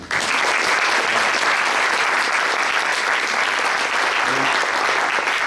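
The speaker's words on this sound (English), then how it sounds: "Big round of applause for them." An audience at a farewell event gives a university medical campus band a steady, dense round of applause that holds at full strength throughout with no break.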